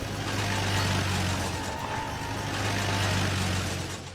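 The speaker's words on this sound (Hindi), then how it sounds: "तभी अचानक गांव में एक गाड़ी आकर रुकी।" A vehicle pulls into a village in a cartoon, its engine giving a steady, fairly loud low rumble that settles into an idle, with no voices.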